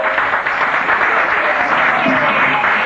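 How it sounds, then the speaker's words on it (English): A comedy club crowd at a Def Jam Comedy audition gives a comedian a round of applause. The thick, continuous clapping stays loud and steady from start to finish. "Give him a round of applause for Mr. Tom Morrow."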